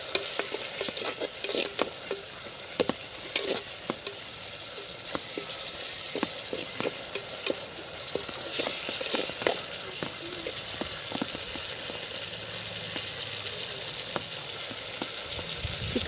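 Chicken pieces for a Chettinad country chicken curry fry in a pan in a constant close sizzle. Repeated scraping and clinking stir strokes sound over it, with no speech.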